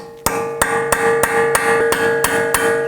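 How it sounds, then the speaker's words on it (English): A hammer striking a punch to unstake the rolled collar of a front axle nut on a 2018-2024 Toyota Camry, eight sharp metallic blows in a steady rhythm, close and ringing. "use a punch or a chisel tip here to go ahead and undo that rolled piece here"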